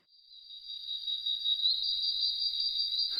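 Tree frogs call in a forest at night on a little-known island, a steady high-pitched trilling drone that swells up from near silence and holds, with nothing else heard.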